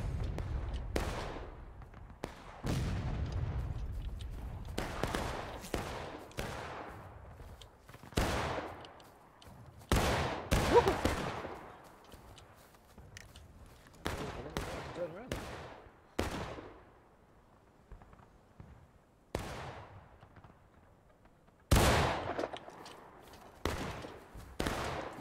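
Scattered musket volleys and heavier artillery booms in a Civil War battle game, sharp reports at irregular intervals, some close and loud, others distant, each trailing off into echo.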